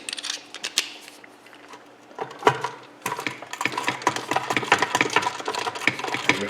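Phillips screws being unscrewed from a Briggs 3.5HP Pulsa Prime carburetor mounted on its tank, heard as close, sharp scraping clicks and squeaky turning in short bursts with brief pauses between.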